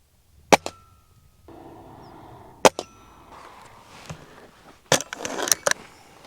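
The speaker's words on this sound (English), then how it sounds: "I'm going to shoot at the center bottom red square." Ruger Impact Max .22 pellet gun fired at a paper target, giving a few sharp, isolated cracks spaced apart with quiet handling noise and faint rustling between shots.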